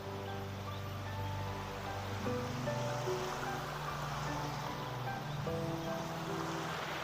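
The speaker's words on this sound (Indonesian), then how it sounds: "airnya sungai kelihatan. Lebar sungai sekitar ada 5 meter nih." A river about five meters wide flowing past a rural house property, giving a steady, soft rushing of water with a faint constant background hum and no talking.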